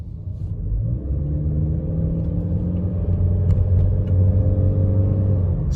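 A hybrid car's petrol engine hums steadily with a low rumble, rising slightly as it revs toward 3,000 RPM partway through, heard from inside the vehicle.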